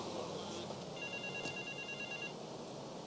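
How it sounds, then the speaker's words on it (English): A payphone rings in the GTA III video game, one steady electronic ring tone sounding faint and distant under the game's ambient background noise. "I hear a phone ringing, do you?"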